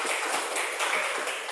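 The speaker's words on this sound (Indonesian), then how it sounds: "Tepuk tangan untuk para juara." Audience applauding the winners of a poetry-reading contest, a dense, steady wash of many hands clapping together, sustained and fairly loud for the full moment.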